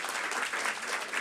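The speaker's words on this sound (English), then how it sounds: "So if we can just give them one more round of applause for their hard work and dedication." A room of people applauds student finalists at a school board of education meeting, with steady, dense clapping sustained at moderate level throughout and no voices over it.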